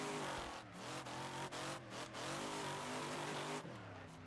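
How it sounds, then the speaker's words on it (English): Car sliding sideways through a corner in the Wreckfest racing game, engine roaring steadily with rising and falling revs and a few brief dips, loud and close throughout. "Drift around this corner here."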